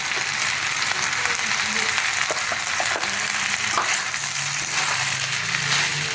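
Cashew nuts frying in oil in a pan, a dense close sizzle with spatula scrapes and light clatter, and a voice talking faintly partway through.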